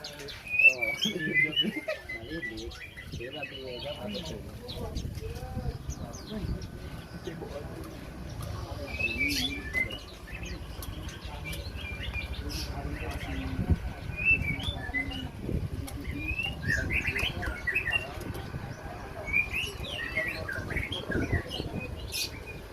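Small white-eyes and hanging parrots chirp at a bird farm in Aceh, with sharp high tweets and trills scattered through a quiet, low background while a voice speaks at times.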